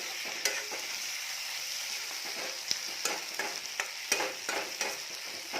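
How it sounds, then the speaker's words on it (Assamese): Tomatoes frying in a pan with marinated pork for an Assamese curry, a soft steady sizzle broken by frequent sharp stirring clicks and scrapes, close and without talk. "এতিয়া বিলাহীখিনি মই অকণমান ভাজিম, মিলাই দিছোঁ।"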